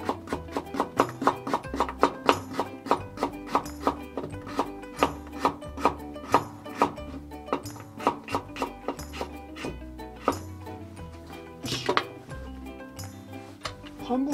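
Knife thinly slicing a vegetable on a cutting board in a home kitchen, a fast run of crisp, evenly spaced chopping taps close to the microphone, with a few clinks of dishes near the end.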